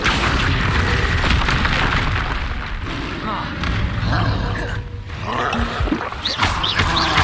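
Confringo spell blasts in the video game Hogwarts Legacy, loud booming explosions and roaring bursts layered over dense combat noise, with a voice shouting spell names.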